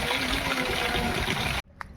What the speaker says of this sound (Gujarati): ખેતરમાં પાણી ભરાઈ ગયું